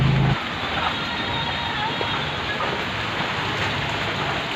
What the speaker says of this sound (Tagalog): Ayan, umulan na naman guys.